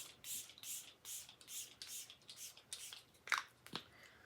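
Nine or ten quick hissing bursts of milk setting spray in a steady rhythm, close and soft, followed by a couple of faint taps.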